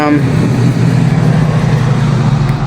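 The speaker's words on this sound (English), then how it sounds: "truck's loud." A heavy, loud low rumble of a large vehicle fills the scene, droning continuously as it passes close by.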